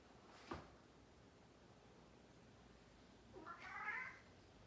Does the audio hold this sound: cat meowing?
yes